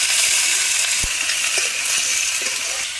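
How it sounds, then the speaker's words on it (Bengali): Onion and potato fry in oil in a wok with a steady, bright hiss, broken once by a sharp utensil tap and faint stirring clinks. "তেল দিলাম কড়ায়, পেঁয়াজ দিলাম তেলের মধ্যে, আলু দিলাম।"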